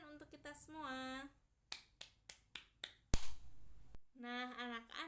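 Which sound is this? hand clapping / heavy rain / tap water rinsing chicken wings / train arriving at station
hand clapping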